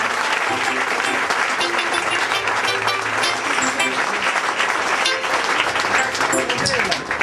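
A church congregation claps loudly and continuously, a dense sustained applause that fills the room, with voices calling out and talking over it.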